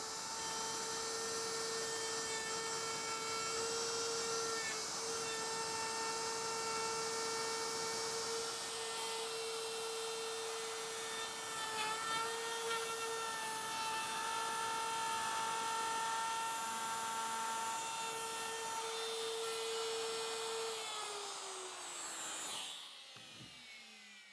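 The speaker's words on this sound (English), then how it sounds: "I have a plunge router here set up to do the initial mortise" A plunge router cuts a hinge mortise in wood for a Pullman desk, giving a steady, high-pitched motor whine that runs for about twenty seconds under the rasp of the cut, then winds down as the tool is switched off.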